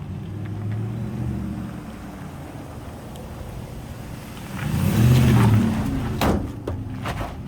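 Truck driving around outside during a police encounter, a low engine rumble that swells and passes nearby midway, with wind buffeting and a few knocks, no talk over it.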